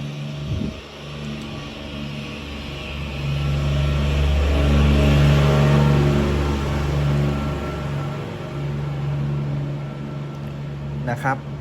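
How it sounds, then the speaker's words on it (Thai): A farm tractor rumbles past nearby, its low engine drone swelling and then fading, with someone talking over it. "ดี๋ยวให้รถผ่านไปก่อนนะ ช่วงนี้รถไถเข้าบ้านนะครับ"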